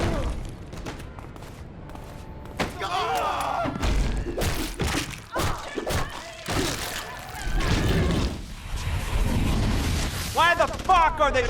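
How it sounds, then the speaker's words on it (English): Gunfire and heavy thuds sound in the Prototype video game, with dense bursts of shots and booming impacts throughout, mixed with a voice speaking over the action. "Why the fuck are they shooting at us?"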